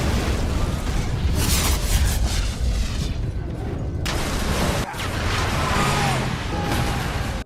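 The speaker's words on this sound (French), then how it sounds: "Dans les films, les explosions de voitures sont toujours extrêmement impressionnantes." A movie-style car explosion roars as broadband blasts and crackling debris, loud and sustained, with a sharp break partway through before the rumbling fire noise resumes.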